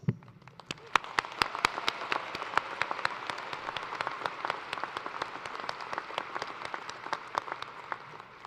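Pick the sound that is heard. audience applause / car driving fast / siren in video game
audience applause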